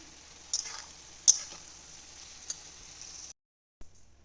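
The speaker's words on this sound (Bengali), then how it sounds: "এবার এটা ভাজছি, ভালো করে ভেজে নিই" Eggplant and potato curry fries in a pan with a steady close sizzling hiss, a few sharp clinks of stirring over it, then a brief pause before a soft clatter.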